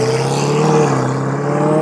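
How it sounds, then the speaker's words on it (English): A Ferrari 488 with a Rift exhaust drones loudly and steadily close by in a flyby, its tone rising slightly as it passes, with no voices. "I'm going to record him doing a flyby."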